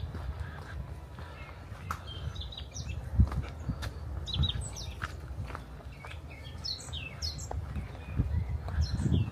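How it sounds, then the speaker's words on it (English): Small birds chirp and sing in scattered short calls outdoors on a pleasant day, moderately close, over a low rumbling background with occasional thuds and footstep-like sounds. "Just hear the birds singing. It's amazing,"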